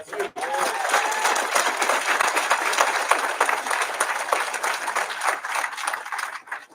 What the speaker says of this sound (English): Can we give Lloyd another big, gigantic round of applause?